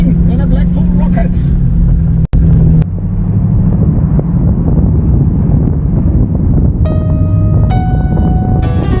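A TVR Chimaera 500 sports car climbs the Klausen Pass, its V8 engine droning and shifting pitch through gear changes under heavy wind rush, with a brief dropout and a bright tonal passage near the end.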